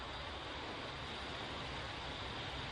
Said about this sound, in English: this goddamn beautiful hiss